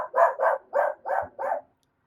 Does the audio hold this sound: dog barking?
yes